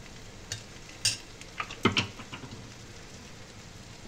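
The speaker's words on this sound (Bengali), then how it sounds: "গোলমরিচের গুঁড়ো দিয়ে একটু ভালো করে নেড়ে নিচ্ছি" Roasting potatoes dusted with black pepper powder are stirred in a pan, a soft sizzle broken by a few sharp scraping clicks of the spoon, faint and close, with no talk.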